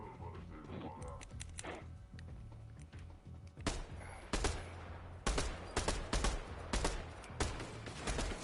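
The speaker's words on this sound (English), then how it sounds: "Who's shooting?" Video game gunfire, with a muffled, busy stretch of distant shots giving way to louder, close bursts of rapid automatic fire in short repeated strings, with faint voices in the background.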